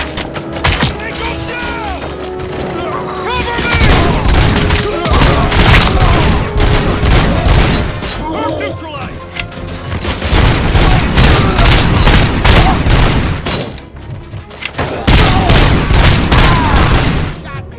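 Sustained heavy gunfire from the RoboCop: Rogue City video game, dense bursts and booming shots nearly nonstop, with brief lulls around the middle and near the end, loud and close, with shouting voices mixed in.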